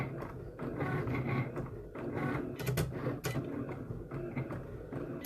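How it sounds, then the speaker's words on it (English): A Cricut Explore Air 2 cutting machine runs steadily nearby at moderate volume, its motors whirring and clicking as the carriage moves back and forth in short mechanical bursts. "So this is the Cricut Explore Air 2."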